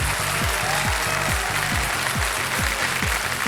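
Studio audience applause on KBC India, a steady, dense wash of clapping from a large crowd, fairly loud and continuous with a regular rhythmic pulse under it.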